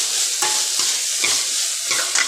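Onions frying in oil in a pan for a dry tinda vegetable dish, loud close sizzling broken by rhythmic stirring scrapes about every half second, with no voices.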